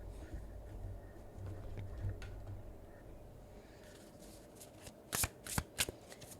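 Tarot cards are shuffled by hand, soft riffling at first, then several sharp, close bursts of card slaps near the end, with no talking.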